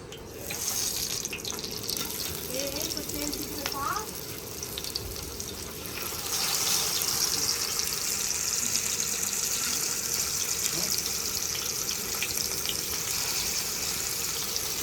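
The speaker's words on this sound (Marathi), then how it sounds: "आपला मस्की तेल तापला आणि बघा आपली बोईट टाकू म्हणजे आपण फ्राय करायला" Boi fish frying in hot mustard oil, a steady broadband sizzle that runs continuously and swells louder partway through, close and without talk.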